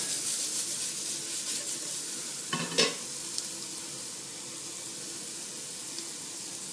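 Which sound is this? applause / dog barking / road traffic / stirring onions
stirring onions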